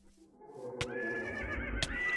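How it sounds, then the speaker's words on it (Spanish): Horse neighing in the Minecraft video game, one clear whinny starting partway through with a rising tonal cry, sharp bursts at its start and end, fairly close and alone against a quiet game background. "No sé, un caballo."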